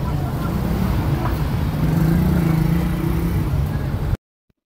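From inside a car travelling the road from Timergara toward Bajaur, a steady engine hum and road rumble continue evenly while the car turns, then the sound cuts off abruptly.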